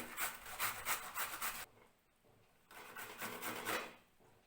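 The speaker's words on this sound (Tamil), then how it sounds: "இப்போ இந்த சொரக்காவை நம்ம சீவிக்கணும் கிரேட்டர் வச்சு இந்த மாதிரி துருவிக்கணும்" Peeled bottle gourd scraped against a kitchen grater in quick, steady rasping strokes, close and fairly loud, with a brief pause midway before the rhythmic grating resumes.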